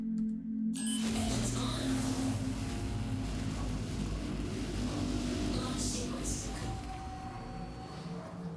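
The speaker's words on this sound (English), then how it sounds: "Let's go ahead and turn it on and take off." A MISC Freelancer ship's engines fire up for takeoff in Star Citizen, bursting from near silence into a loud, steady, rumbling drone that holds and eases slightly toward the end.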